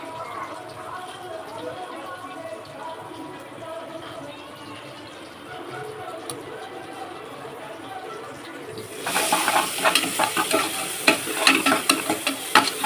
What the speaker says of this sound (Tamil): இடையில கொஞ்சம் கிளறி விட்டுக்கிட்டே இருக்கணும்.